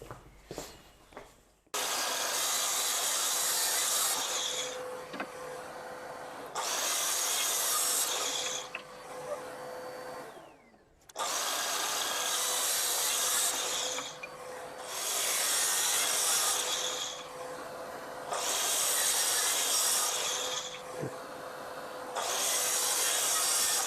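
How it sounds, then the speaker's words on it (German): Hand saw cutting wood for a coat rack, a close, steady back-and-forth rasp in long repeated strokes, with brief pauses between bursts. "So, jetzt gehen wir an die Säge."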